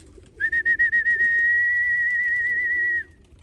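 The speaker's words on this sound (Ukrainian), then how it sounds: "Зараз я свисну," A person whistles to call pigeons: a few short piercing chirps run into one long, steady, shrill whistle close by, with faint low rustling and bird sounds underneath.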